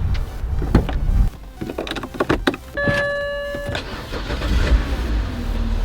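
A BMW E91 wagon engine cranks briefly and fires, then settles into a close, steady idle. Clicks and a whirring electric motor come first, and there is no talking.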